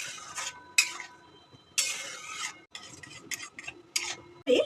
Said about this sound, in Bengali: এবারে মশলার সাথে পুরো দুটো ডালকে একসঙ্গে মিশিয়ে নেব